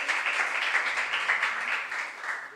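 An audience at a regional qualifier of a junior science and maths quiz gives the contestants a dense, even applause of many hands that holds steady throughout without voices.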